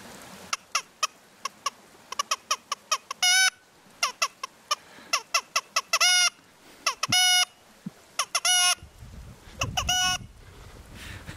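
A fox-hunting lure call imitates a hen's post-laying cackle in a series of sharp, honking squawks, grouped in irregular bursts with short pauses, loud and close against a quiet background.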